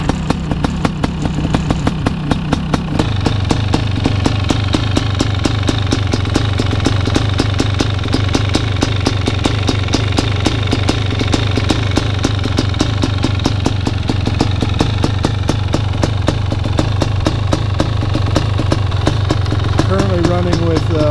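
A BRC 500 snow bike engine with CDI ignition and a 24-volt starter runs with both radiators blocked, a loud rapid single-cylinder pulsing idle that steadies after a brief rougher start, with someone talking over it.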